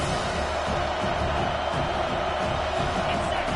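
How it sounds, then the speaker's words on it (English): A college football stadium crowd in the NCAA 25 game roars on third down, a dense, steady wall of cheering and shouting that holds at full loudness without a break across the whole moment, with faint whoops rising from the mass of voices. "Third down, and this crowd is tearing the lid off this place."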